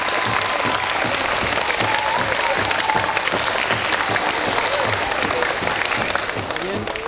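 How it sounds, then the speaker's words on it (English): Crowd at an American Indian Heritage Day event gives a round of applause honoring the Kickapoo Traditional Tribe of Texas, steady clapping throughout with a few voices and cheers mixed in. "Give them a round of applause to honor and recognize Native Americans"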